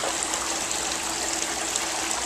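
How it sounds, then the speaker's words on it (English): Water from a decorative drinking fountain splashes and trickles continuously, a bright, even hiss of flowing water heard close up with no talking over it. "It's a water fountain."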